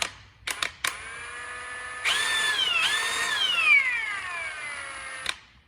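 Ridgid Octane brushless 1/2 inch high torque impact wrench: a few short clicks, then a steady whirring motor run that rises and winds down over several seconds, close by.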